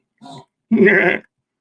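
A person imitates a goat with a laughing bleat: a short nasal burst followed by a longer, louder wavering bleat, close and alone.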